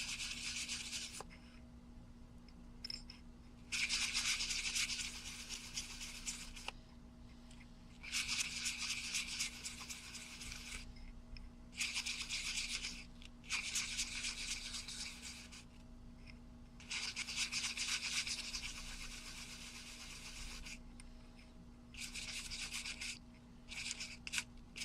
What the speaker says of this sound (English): once you've done the whole thing with your sandpaper